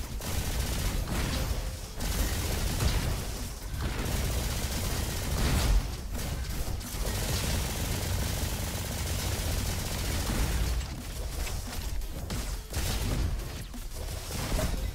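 Sustained rapid automatic fire from the Valkyrie Rifle in the shooter game Roboquest, dense and loud bursts running almost without pause, with brief gaps and mechanical clatter mixed in.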